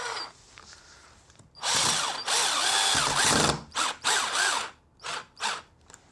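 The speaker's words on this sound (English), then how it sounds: "Change the mode on here, back to screw drive. Fit our Phillips head. And quite simply fit the screws into the raw plugs." A cordless drill set to screw-drive mode with a Phillips bit drives screws into wall plugs to mount a whiteboard, giving several loud whirring bursts of varying length with short pauses between them, close to the microphone.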